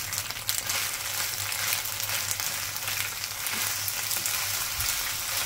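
Pasta with paprika and mozzarella being stirred in a hot pan, giving a continuous close sizzle and frying hiss with a low steady hum underneath and no talking.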